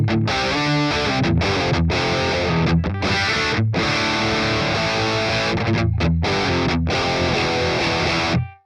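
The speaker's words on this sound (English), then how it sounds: "So that's the sound of the amp." Distorted electric guitar played through a Boss Katana 50 MKII amp, loud chugging chords and riffs with short stops between phrases, no talking.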